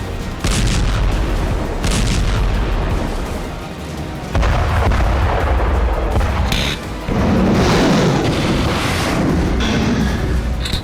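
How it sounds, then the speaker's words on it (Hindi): Heavy artillery and missile fire from warships during a Russia-China naval exercise in the Indian Ocean, a continuous loud roar of overlapping booms and blasts with no pauses. "मिसाइलों और गोला बारूद से लैस ये लड़ाके बीते 24 घंटों से बारूदी कोहराम मचा रहे हैं।"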